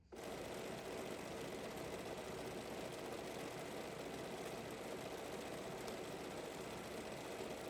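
A sewing machine stitches a quilt piece, a continuous, even motor whir with a fast steady needle rhythm that starts abruptly and runs unbroken, close and moderately quiet, with no talking.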